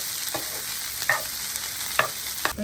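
Onions frying in a pan for a Jaffna-style prawn curry, a steady sizzle broken by a few sharp spatula stirs and scrapes against the pan.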